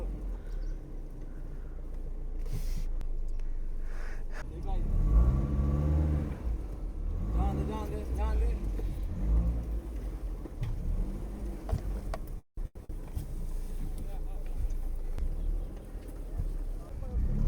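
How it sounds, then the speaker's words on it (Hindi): A car engine labours and revs as the vehicle is driven along a difficult, rough and risky road, with a steady mid-loud motor drone throughout and people talking over it. "मुश्किल रास्ते से गाड़ी निकाल रही है।"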